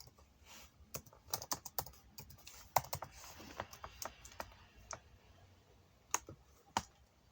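Keys clack on a computer keyboard in quick, uneven bursts of taps, close and fairly quiet, with brief pauses between runs.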